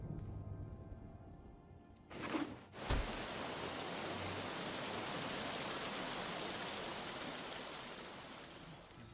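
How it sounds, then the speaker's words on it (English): Rain ambience in the video game Magic: The Gathering Arena, a steady broadband hiss of falling rain that swells after a brief interface thump and then holds evenly throughout. "There's this nice, like, sense of rain coming from the game."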